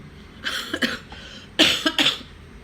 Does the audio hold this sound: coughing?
yes